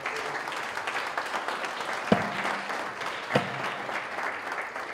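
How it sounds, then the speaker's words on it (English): Audience applause for contestants at the Canyon Challenge 2019 event, a steady sustained clapping from a crowd lasting throughout, with a couple of sharper individual claps standing out. "Let's get one more big round of applause for all of our contestants today."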